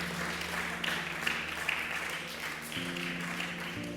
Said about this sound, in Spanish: Dê um aplauso à palavra do Senhor.